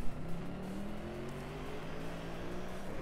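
Engine drone of a car in the racing game Driveclub, a steady moderately quiet hum with slowly rising pitch as it accelerates, continuous throughout with no talking.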